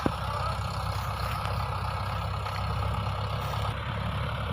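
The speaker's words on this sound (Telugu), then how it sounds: "ట్రాక్టర్ అయితే ఇంక ఇంటికి బయలుదేరింది." A farm tractor's engine runs at low revs, a faint steady diesel rumble with no talk over it as the vehicle sets off for home along a village road.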